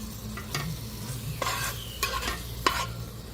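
Curry leaves and coriander are stirred into a sizzling tomato chutney, with a steady low fry under several sharp scraping spoon strokes against the pan.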